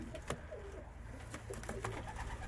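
Pigeons in a loft give soft, low coos amid faint rustling and clicks, close and quiet.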